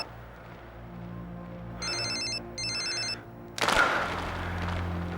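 Two short bursts of an electronic telephone ring trill over a low background hum, followed by a sudden loud whoosh-like hit.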